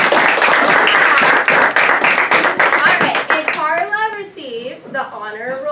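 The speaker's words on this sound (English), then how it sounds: "Let's give her a round of applause." At an elementary school fifth-grade graduation, an audience breaks into loud, close applause for several seconds, fading as children's voices and talk take over.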